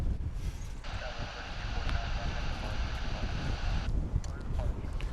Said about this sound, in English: Like this Airbus A320 headed off to McAllen, Texas